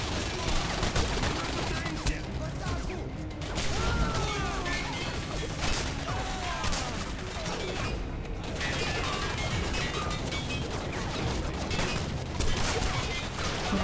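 Rapid gunfire from the shooter game Singularity crackles in dense, sustained bursts with crashes and mechanical clatter, loud and continuous throughout, with a voice talking now and then over the shooting.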